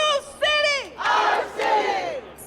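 Protest crowd in Chicago cheering and shouting together in loud, ragged bursts that rise and fall across a few seconds, with yelling voices close and strong.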